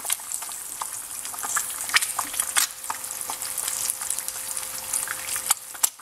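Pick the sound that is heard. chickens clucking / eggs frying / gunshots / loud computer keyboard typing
eggs frying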